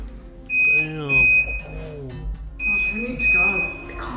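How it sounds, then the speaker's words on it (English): Fridge alarm beeping inside a house, a steady high-pitched electronic tone sounding in two long stretches while voices talk over it. "That's what the beeping is. It's the fridge."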